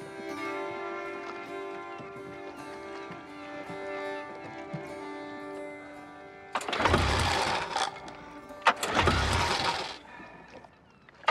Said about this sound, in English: Damn engine.